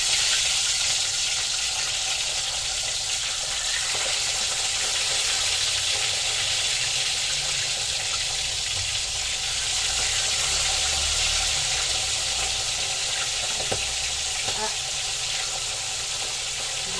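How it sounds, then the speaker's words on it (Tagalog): Steady, loud sizzling and crackling of fish frying in hot oil, continuous throughout with occasional pops and faint voices underneath. "Prito na natin."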